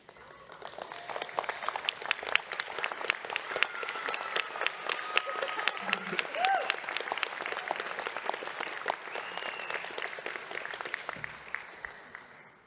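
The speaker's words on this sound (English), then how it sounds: "I'd like to ask the graduates to please stand, turn and face your families and friends and applaud them" Graduates at a commencement ceremony applaud their families and friends, a steady dense wash of clapping from a large seated crowd that holds at an even level throughout, with no voices standing out.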